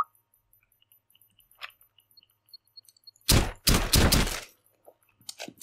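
Gunfire in Rainbow Six Siege: a dense burst of rapid shots roughly midway, loud and close, with a few scattered clicks and impacts before and a couple of sharp reports near the end; no talking.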